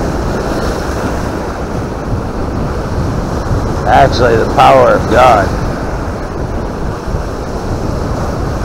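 Ocean waves break in a steady, continuous surf wash with wind noise, while someone speaks briefly midway through.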